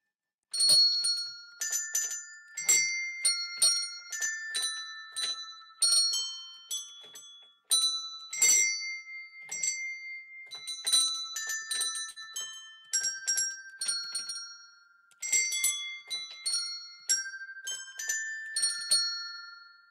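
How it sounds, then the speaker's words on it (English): A set of eight mechanical tuned bells forming a diatonic octave ring out in quick melodic runs of bright, clear dings, repeating in phrases with brief pauses between. "So this is some mechanical bells."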